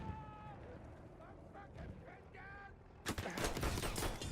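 Gunfire in the multiplayer shooter Incursions, a sudden burst of loud, dense shots from about three seconds in, following a stretch of game ambience and tonal effects.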